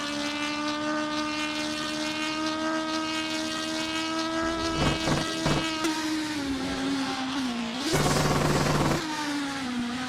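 A race car on a circuit sustains a steady, strong engine drone, then blips through quick downshifts with bursts of revving as it brakes for a corner, no voices over it.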